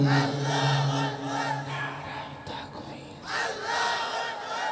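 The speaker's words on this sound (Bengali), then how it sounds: "সবাই মিলে একই তালে দাও না স্লোগান" A large crowd at a Bengali Islamic rally chants a slogan together in unison, voices rising and falling in loud rhythmic waves with a brief dip in the middle before surging back.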